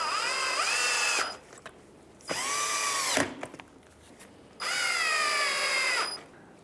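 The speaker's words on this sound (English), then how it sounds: "we'll go ahead and put our 3 Phillips screws back in place" A power driver whines in three short bursts, driving Phillips screws back into the front bumper cover of a 2015–2019 Hyundai Sonata, each run rising and falling close up with brief clicks and pauses between.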